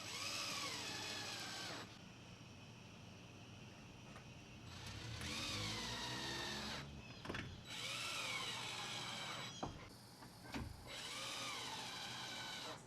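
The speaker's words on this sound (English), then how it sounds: "I'm going to go ahead and screw these first, and then figure out my spacing" A power drill drives screws into boards while a patio table is restored, with four separate whining bursts that rise in pitch, each a couple of seconds long with short pauses between, fairly faint and distant.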